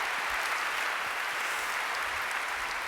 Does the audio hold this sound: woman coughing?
no